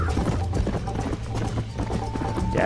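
Horse hooves clatter in rapid galloping rhythm during a horse race in the Red Dead Redemption video game. The hoofbeats are close and continuous, mixed with game ambience and a brief whinny.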